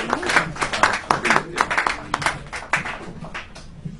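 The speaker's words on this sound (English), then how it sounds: "clap like crazy as we welcome to the mic, Brad Boo Bathgate" Audience clapping at a stand-up comedy show as the next comedian is welcomed to the mic, with uneven, scattered claps and crowd noise that stays fairly close and moderately loud for several seconds.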